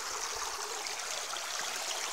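River water flows steadily, a constant broadband rush close to the microphone with no pauses, heard alone without talk.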